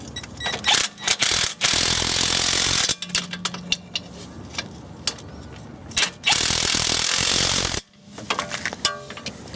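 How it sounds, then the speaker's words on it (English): An impact gun hammers in several loud bursts, tightening track rod end bolts on a VW Golf Mk2 during a front wheel bearing job, with short clattering pauses between the rattling runs. "we'll just wind them up with the impact gun first of all"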